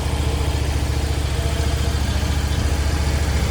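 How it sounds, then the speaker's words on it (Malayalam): A KTM Super Duke twin-cylinder motorcycle engine idles steadily up close, giving a continuous low throbbing rumble with an even pulse and no voices. "ഒരു ബി ട്വിൻ്റെ സൗണ്ട് എൻജിൻ സൗണ്ടാണ് നമ്മൾ കേൾക്കുന്നത്"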